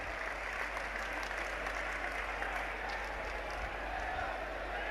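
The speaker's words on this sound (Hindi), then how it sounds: "जोरदार तालियां बजा के अभिवादन करना है।" Large election rally crowd in Dwarka, West Delhi applauding to welcome the Prime Minister, a sustained, even roar of clapping from many hands mixed with faint crowd noise throughout.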